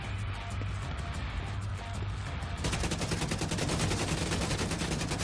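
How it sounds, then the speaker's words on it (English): Rapid automatic gunfire in the video game The Division 2, sustained bursts that thicken into a dense continuous rattle in the second half, loud and close. "Don't stop shooting"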